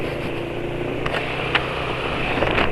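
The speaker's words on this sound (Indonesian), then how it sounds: "Ini suara mesin sudah mulai kasar ya" A motor engine idles with a rough, uneven running note after cooking oil was added to its motor oil, a steady close drone with a few brief irregular ticks and knocks, no voices.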